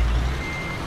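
A truck in a driving video game reverses with its backup alarm beeping loudly and steadily over the low rumble of the engine, with no talk.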